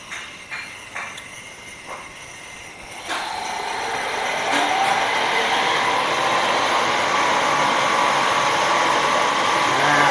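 A cotton candy (arumanis) machine spins up, a steady whirring motor hum that grows louder and fuller after a few light clicks at the start, close and continuous.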